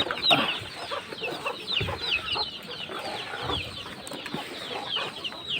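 Chickens being fed mixed feed with chopped water spinach, a busy stretch of steady overlapping clucks and squawks nearby, eager and restless, with no talking.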